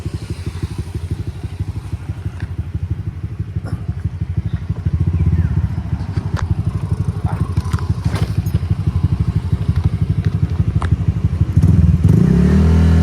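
Honda Click scooter with stock engine and a Kenochi stainless exhaust pipe idles close by with a fast, choppy putter, rising into louder revs midway and again near the end.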